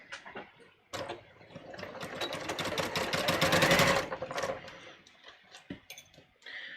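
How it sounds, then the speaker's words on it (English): A sewing machine stitches a raglan sleeve in one short burst, its rapid needle chatter swelling to a steady run and then easing off, heard close and alone. "I'm just going to sew this quickly"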